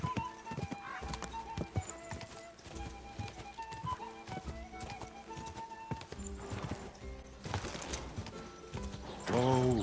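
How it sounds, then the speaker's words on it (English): Rapid clip-clop of galloping horse hooves in the game Kingdom Come, over busy music and effects, with a horse whinny near the end. "Is this your first time riding a horse?"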